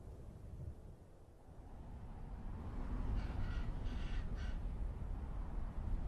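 Ravens calling in open North American sagebrush country, a few hoarse croaks in a short cluster heard at mid distance over steady wind noise.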